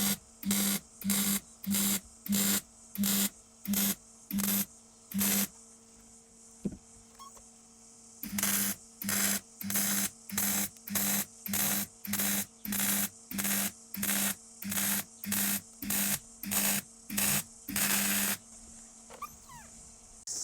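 Bursts of welding on a rusty car pillar, about twenty evenly repeated crackling buzzes, each roughly half a second long, broken by one brief pause and running over a steady electrical hum.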